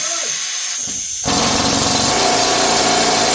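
A power drill starts up at a gold mine after a brief lull and runs loud and close, holding a steady, sustained whine with no voices over it.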